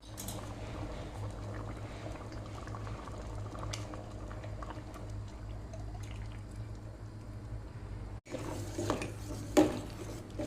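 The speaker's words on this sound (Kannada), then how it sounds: "ಇವಾಗ ನಾನು ಬೆಲ್ಲದ ನೀರನ್ನು ಹಾಕ್ತೇನೆ" Jaggery water goes into a boiling pot of sago and moong dal. A steady bubbling simmer runs close by, then a brief clatter and splashing pour near the end, with no one speaking.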